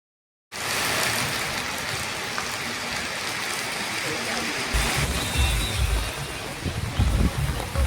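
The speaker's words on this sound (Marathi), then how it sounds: "पाऊस आता कंटिन्यू आहे." Steady rain pours down outdoors at a resort near Pune, a dense, continuous hiss that fills the whole scene after a brief silent start, with heavier splashing and rumbling toward the end.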